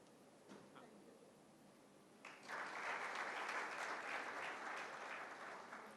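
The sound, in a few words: applause for the chairman at a book launch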